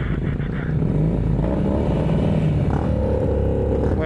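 Benelli motorcycles on a group tour to Kintamani, Bali, revving and pulling away together: a dense, steady engine roar close by, with rising revs and a little mechanical clatter throughout.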